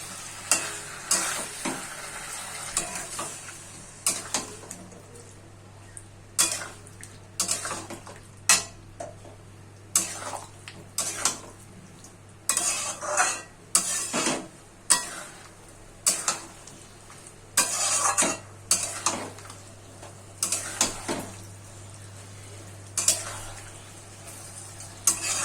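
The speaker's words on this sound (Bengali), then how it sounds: "অল্প জল দিয়ে একটু নাড়াচাড়া করে দিলাম" Mustard-poppy drumstick curry being stirred in a pan after a little water is added, a sizzling simmer under repeated spoon scrapes and clanks against the metal pan, with a low steady hum beneath.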